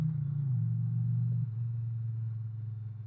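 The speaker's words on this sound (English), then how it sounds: "this engine just purrs right along" Indian Challenger motorcycle engine running smoothly, a steady low rumbling purr that shifts pitch slightly partway through, close and continuous, no talking.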